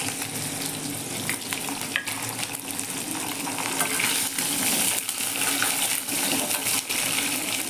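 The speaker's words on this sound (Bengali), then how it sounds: "এখন আলু আর পটল একলগে ভেজে নেব" Potatoes and pointed gourd fry together in a pan, giving a continuous sizzle with scattered clinks and scrapes of stirring, close and steady, no one speaking.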